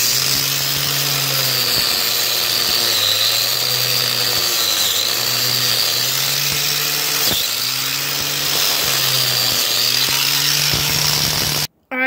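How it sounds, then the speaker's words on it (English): Angle grinder fitted with a wire wheel cleaning a steel axe head, a loud steady whine with repeated dips and surges in pitch as the wheel bites the metal, running continuously then cutting off at the end. "I got the wire wheel on my grinder"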